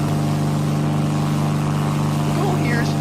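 A plane engine in a Minecraft flight simulator game drones steadily and loudly throughout, a constant low hum with a faint rising whine near the end, while a voice talks over it.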